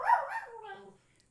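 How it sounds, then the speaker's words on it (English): A small dog named McFly gives one brief yappy bark that trails into a whimper, close and moderately quiet, then fades to silence. "Can you all hear this ridiculous dog?"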